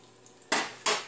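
Bacon and English muffins cooking in a home kitchen for breakfast, heard as two sharp, close clatters of utensils against a pan over a faint background hiss.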